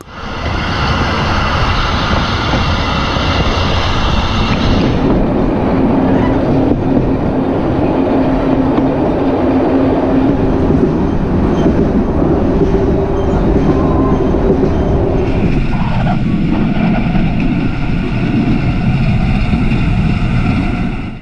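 Passenger train running on the Banha–Mit Ghamr line, a loud continuous rumble and rattle of wheels on track heard from onboard, steady throughout with shifting tones as it moves.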